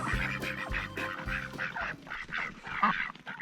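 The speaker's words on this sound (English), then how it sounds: "Runner ducks." A flock of runner ducks quacks and honks continuously at moderate distance, many overlapping calls in an uneven rhythm, with no voices over them.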